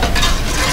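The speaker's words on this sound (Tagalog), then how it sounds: "And stir it well." A brief, loud, close swirl of stirring through mango pulp mixed with sugar and yeast, giving a dense, wet churning texture with no voice.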